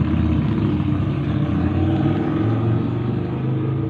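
Steady, loud rumble of street traffic with passing cars and engine drone, continuous and close, no speech over it.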